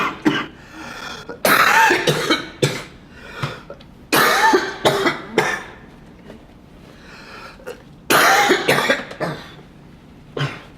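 Repeated harsh coughing from a person with cystic fibrosis, coming in several close bursts of coughs separated by short pauses, near and fairly loud, with no talking.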